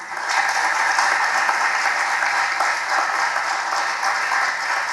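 A crowd breaks into dense, continuous applause after a Hindi speech, a bright, even wash of many hands clapping at fairly close range for about five seconds, with no talking.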